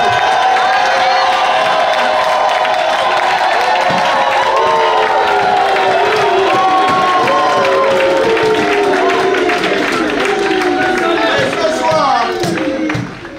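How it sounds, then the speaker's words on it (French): A church conference audience cheers and acclaims God in a hall, a dense sustained roar of many voices with whoops, shouts and scattered clapping, loud and continuous before cutting off at the end. "On peut se lever et l'acclamer puissamment."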